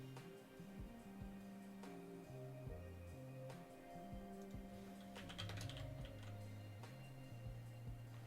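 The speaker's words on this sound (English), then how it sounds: "I think you're hearing my keyboard a lot," Quiet, close typing on a computer keyboard during a hacking stream, with irregular rapid key clicks and a busier flurry near the middle over a faint steady hum.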